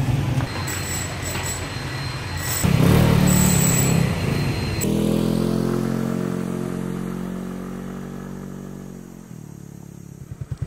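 Rented motorbike on the road in Bohol, engine droning and rising under buffeting wind, with rattling clatter early on and a louder rumbling stretch before the engine settles and eases off.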